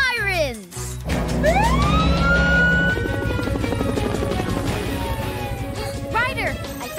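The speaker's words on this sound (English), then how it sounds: "Ruff, ruff, sirens!" Emergency sirens wail loudly, rising and falling in sweeping tones, with a brief voice at the start and another siren swell near the end.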